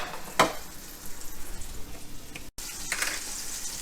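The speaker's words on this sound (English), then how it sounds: "once your butter is nice and hot, just gonna go ahead and put our ribeye in" A ribeye steak sizzles in hot clarified butter. A sharp hiss comes as it hits the pan, followed by a steady crackling fry that briefly cuts out, then returns with a brighter sizzle.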